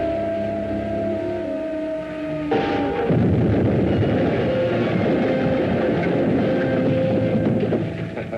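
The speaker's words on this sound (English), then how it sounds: "That troop train be along soon." A troop train passes on a railway line in a 1952 sci-fi serial, a loud continuous rumble and clatter that swells in after a few seconds and holds steady, following a quieter stretch of low tones with no talk.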